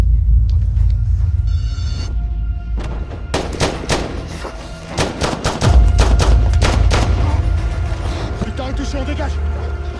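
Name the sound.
gunfire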